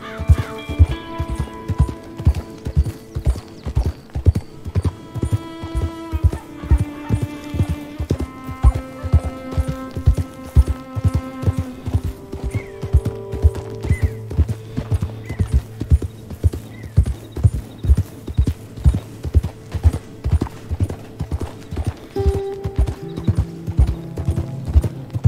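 A horse ridden across open landscape in Red Dead Redemption 2 gallops with steady, loud clip-clop hoofbeats throughout, a continuous driving rhythm beneath a swelling orchestral score, with no talking.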